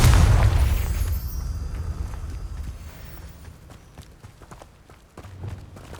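A Confringo explosive spell blast goes off in Hogwarts Legacy, a loud booming burst at the start that rumbles and fades over several seconds, followed by scattered soft thuds and steps.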